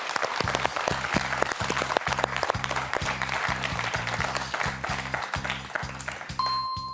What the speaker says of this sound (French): Je vous applaudis pour les 2 choses, Max.